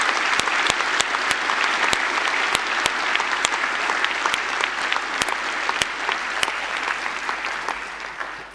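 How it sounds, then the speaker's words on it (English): A large graduation ceremony audience gives a sustained round of applause, a thick, even wash of clapping with sharp, distinct individual claps standing out nearby, gradually easing toward the end. "join me in acknowledging them with a round of applause"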